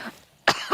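A brief throat-clearing cough in the video game Not For Broadcast: a faint grunt followed by a single sharp, close cough and a short rasping tail.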